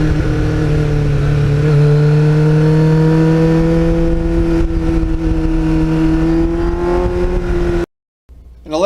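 A Kawasaki Ninja motorcycle fitted with a Muzzy exhaust revs loudly and continuously, rising to a high wailing pitch, then cuts off abruptly before a short burst returns.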